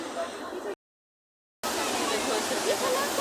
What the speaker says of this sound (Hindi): बहाव देखो अब कितना ज़्यादा, आवाज़ें भी आ रही हैं पानी की ना।